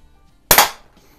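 A Swedish Excellent C1 .21 caliber airgun fires a pellet through a can, one sharp, loud crack with a brief metallic smack and quick decay, heard alone.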